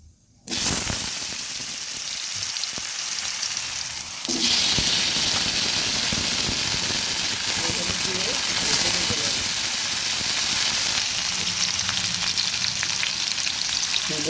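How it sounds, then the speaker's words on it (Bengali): Potatoes drop into hot oil left over from frying lentil dumplings, setting off a sudden loud sizzle that surges even louder a few seconds later and then hisses steadily and close for the rest of the clip. "ওই তেলেই এবার দিয়ে দেব আলু"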